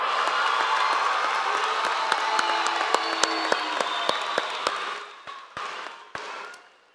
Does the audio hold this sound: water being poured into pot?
no